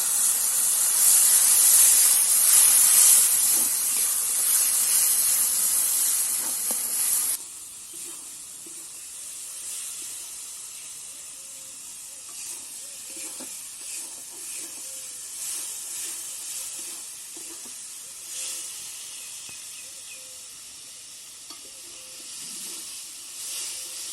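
Spice paste of ground turmeric, chili, cumin and coriander frying in a pan with a little water: a loud steamy hiss at first that drops abruptly to a quieter, steady sizzle with soft bubbling.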